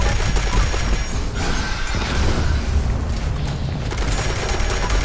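Junkies Railway Rifle fire in Fallout 76: a loud, dense barrage of rapid shots and booms with a mechanical clatter, continuous and harsh from start to finish.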